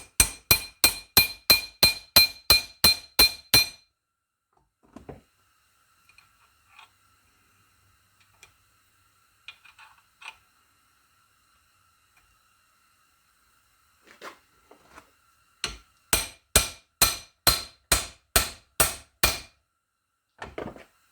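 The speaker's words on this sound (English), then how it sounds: "We just tap, tap, tappy tap." Metal being tapped into a fixture during a coop repair: two bursts of rapid, evenly spaced sharp clinking hammer taps, close and loud, separated by a long quiet stretch with faint handling noises.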